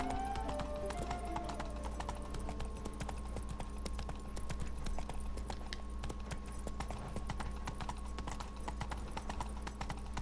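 Galloping horse hooves from The Witcher III: Blood and Wine, a steady rapid clip-clop beating throughout over a constant low ambient bed, with no talk.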